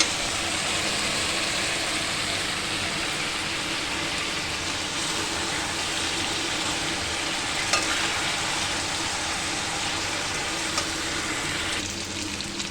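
Chicken curry with melted tomatoes sizzles loudly and steadily in a pan as it is sautéed, a dense continuous frying hiss with a few faint utensil scrapes near the end.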